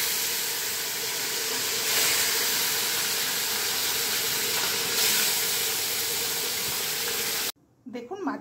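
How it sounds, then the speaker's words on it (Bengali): Pieces of bhetki fish frying in hot oil in a pan, seasoned with cumin, chilli powder and ginger paste, give a loud, steady broadband sizzle and hiss for about seven seconds before cutting off abruptly into quieter background noise. "দেখুন, তাহলে এই মাছগুলো আমি ছাড়লাম"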